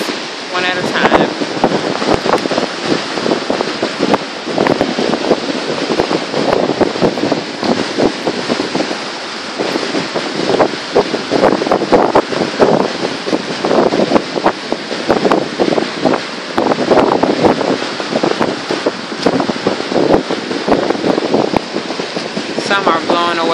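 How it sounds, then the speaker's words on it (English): Strong wind buffets the microphone in continuous loud gusts, roaring and rumbling throughout with no break. "it's very windy out here."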